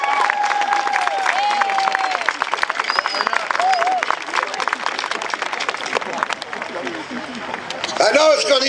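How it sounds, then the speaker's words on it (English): Applause and cheering from a crowd at a 2011 college commencement ceremony, continuous clapping with whoops and crowd noise mixed with scattered voices. "So how about a nice round of applause for your parents?"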